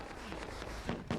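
A firecracker goes off in Dead by Daylight during a competitive match, a couple of short crackling bursts near the end over steady game noise.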